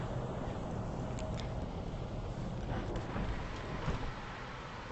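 Jamestown ferry engine running on the water, a low, steady rumble mixed with wind and water wash, constant and fairly quiet throughout.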